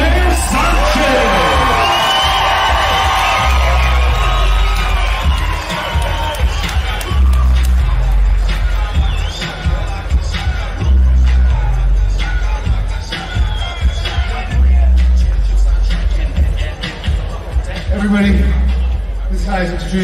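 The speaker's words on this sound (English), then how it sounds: "how about a big round of applause?" A large event crowd cheers, whoops and yells in a loud, sustained roar that rises early and keeps going, with shouting voices mixed throughout.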